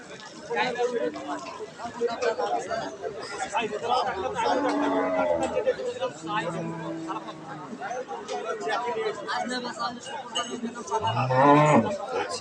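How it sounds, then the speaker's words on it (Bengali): Cattle at a busy livestock market moo loudly and repeatedly, a cow's low drawn-out calls rising above constant crowd chatter and nearby voices, with people talking throughout. "এই যে গরুটা গরুটা কিন্তু মার্শাল্লাহ কোয়ালিটি ফুল একটা গাভী"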